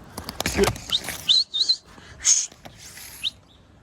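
Several short, bright chirps from pigeons nearby, scattered irregularly, with a soft fluttery rustle early on.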